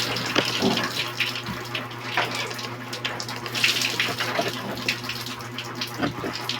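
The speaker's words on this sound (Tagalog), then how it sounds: "Ang daming tubig sa alulod kasi baga na stuck." Heavy water pours and splashes through a clogged rain gutter in a steady, loud, close rush with continual spattering, and no voices over it.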